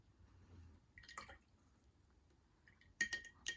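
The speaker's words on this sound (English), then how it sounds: "I just put my brush in my water, and now I can just kind of like tap on some of these spots" A paintbrush is dipped into a water cup and tapped, giving a few faint, close watery clinks and drips at scattered moments over quiet room tone, with no voices.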